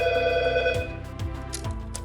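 A Trring Bluetooth call-mirroring device rings like a telephone in repeated short bursts over a sustained electronic tone, loud and close, with no talk.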